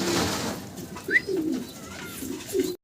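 Fancy pigeons cooing nearby, a few soft low rolling coos in short bursts over a faint background.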